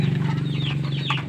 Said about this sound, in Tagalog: gutom na yung mga alagang sisyo natin. At pinakain na natin sila